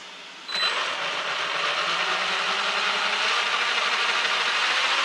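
The electric motor of a 4S Traxxas Maxx RC car spins up suddenly and holds a steady, loud high-pitched whine that keeps rising slightly in pitch.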